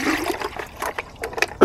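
Dirty standing water sloshes and splashes as it is cleared out of a deep sump after an old pump is removed, coming in irregular close watery bursts with a louder splash at the end.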